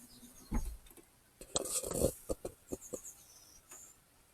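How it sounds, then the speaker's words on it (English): Several birds chirp and call in short bursts from a distance, with scattered rustling and light clatter nearby. "Oh, there's birds all over the place."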